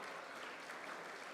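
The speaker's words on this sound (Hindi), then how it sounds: "जोरदार तालियों से स्वागत करिए उनका" A crowd at the Sparsh Himalaya Mahotsav 2025 festival in Uttarakhand claps to welcome a singer, giving a steady, dense wash of applause that sounds somewhat distant and quiet, with no voices over it.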